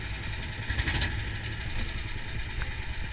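A homemade tracked ATV's engine running steadily as the machine is put in gear and throttled to pull away, a faint, even mid-pitched drone with a slight knocking texture and no talking.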